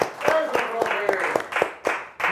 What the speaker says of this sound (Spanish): un aplauso por eso